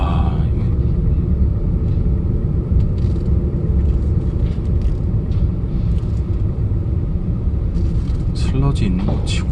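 A Hyundai Accent engine idles with the air conditioning running, a loud, steady low rumble that continues under close conversation in the car cabin.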